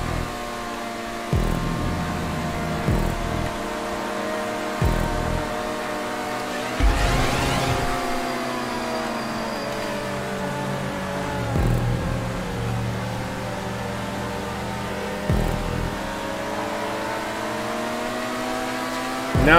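Race car engines in a GTA 5 Online stunt race, a steady loud droning roar with revving rises and gear-shift dips, sustained throughout without talk.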